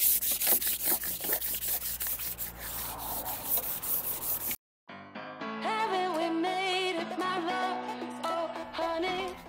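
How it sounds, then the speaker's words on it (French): Wood being sanded by hand gives a steady rhythmic rubbing scrape for several seconds, close and fairly loud, then cuts off. No talk. "Allez, c'est reparti, on égrène de nouveau."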